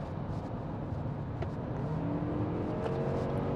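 A 2025 Lexus NX450h plug-in hybrid SUV accelerates under steady throttle, its engine and road noise forming a dense, continuous rumble that rises slightly in pitch as speed builds, heard from inside the cabin with no talking.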